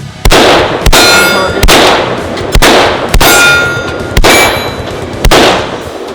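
Bullets strike a steel target at 200 yards, ringing out as six sharp metallic clangs spaced unevenly about a second apart, each loud and followed by a bright sustained ring.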